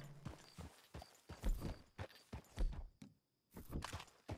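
Horse hooves clip-clopping at a walk in the Red Dead Redemption 2 video game, a steady series of close thuds with a couple of brief pauses.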